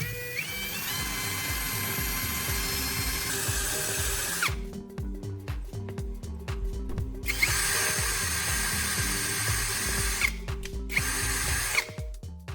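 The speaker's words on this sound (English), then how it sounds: "Place each cap on a small wooden board and drill a hole through the center." A power drill runs steadily, its whine pausing and restarting in short bursts as it bites slowly through a thin metal bottle cap resting on a small wooden board, close and loud.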